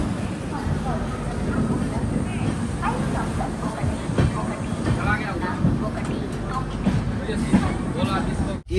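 The Gurudev Express pulls out of Vijayawada station with a steady low rumble and rattle of the carriages. Platform noise and a few scattered voices sit underneath, and the sound stays loud throughout.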